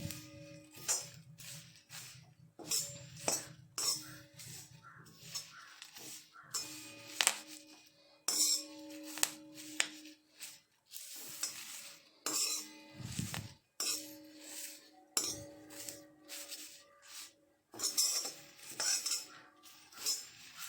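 Curry leaves and drumstick leaves stirred in an iron wok, with rapid metallic scrapes and clinks of a spatula against the pan, coming in uneven bursts close by, with no talking.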